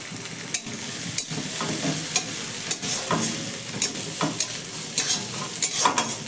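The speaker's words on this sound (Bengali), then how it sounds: "ক্যাপসিকাম দেওয়ার পর 2-4 বার একটু নাড়াচাড়া করে নিয়ে বাকি সবজিটাও এর মধ্যে দিয়ে দেবো" Capsicum stirred and fried in a pan, a steady sizzle punctuated by repeated sharp spatula scrapes every half second or so, close and clear with no speech.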